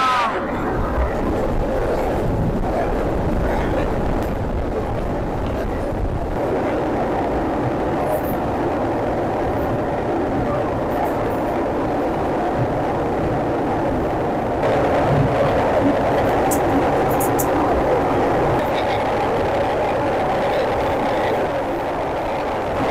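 A passenger train rolls toward the Jamuna railway bridge in Bangladesh, heard from on board as a continuous, loud rumble and hum that swells slightly partway through.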